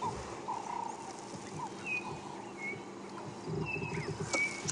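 Francolins call repeatedly at a distance over a busy outdoor background at sunrise on an African safari drive, with scattered whistled and harsh notes; no talking.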